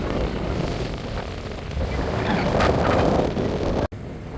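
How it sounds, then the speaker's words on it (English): Strong wind sweeps across a beach, a continuous broadband roar buffeting the microphone, with the rush swelling and easing slightly and a brief dropout near the end; no one speaks. "I don't know if you can hear the wind"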